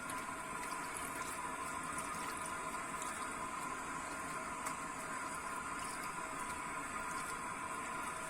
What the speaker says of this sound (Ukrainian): змиваємо шампунь з волосся до тієї пори, поки волосся не стане скріпіти